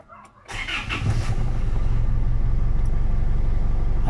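An Isuzu D-Max engine, just fitted with a repaired alternator, cranks briefly and catches, then settles into a steady, close, rumbling idle that continues to the end.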